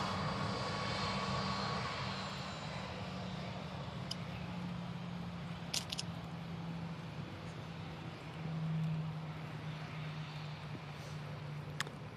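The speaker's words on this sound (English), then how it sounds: "Yeah, EasyJet coming in there." EasyJet airliner with fenced winglets approaching to land at Manchester Airport, a faint, steady engine drone with a low hum that swells briefly near the end, dotted with a few small clicks.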